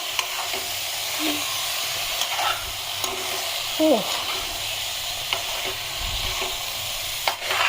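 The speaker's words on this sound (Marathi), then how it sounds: "हलक्या हाताने मस्त परतवून घेत आहो." Dhomela fish being gently sautéed and stirred in a pan, a steady low sizzle with soft scrapes and a few clicks of the utensil, close and fairly quiet.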